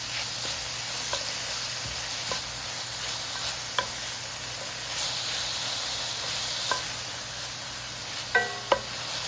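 Garlic and Holy Trinity vegetables (onion, celery and bell pepper) sizzle in a pan for Creole shrimp pasta, a steady close hiss with occasional light utensil taps and a brief clatter near the end.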